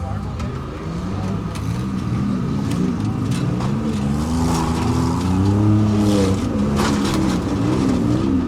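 Cars in a winter demolition derby in an indoor arena rev and roar as they pull away from the start, engines rising and overlapping under a loud announcer's voice over the public address.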